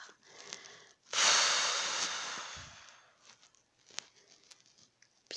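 A long, breathy exhale during a guided breathing exercise, a loud rushing whoosh that slowly fades, with quieter breaths and small mouth sounds around it.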